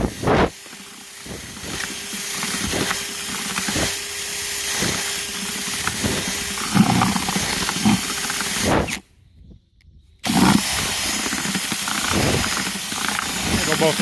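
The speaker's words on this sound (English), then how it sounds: "a 5-gallon bucket paint stirrer and a drill" A drill spins a paint stirrer through wheat kernels in a 5-gallon bucket, giving a steady whirring, rattling grind with periodic clicks. It cuts out briefly for a near-silent pause and then resumes.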